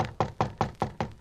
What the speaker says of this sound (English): knocked on the door of flat number 6